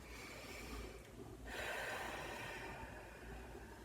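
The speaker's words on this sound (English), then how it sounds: "Take a deep breath" One deep yoga breath, a single soft airy inhale swelling midway and fading slowly, close and quiet over a low background hum.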